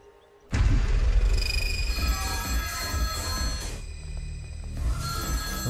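A telephone bell rings loudly and close, a bright trilling ring repeating in bursts with brief gaps between them.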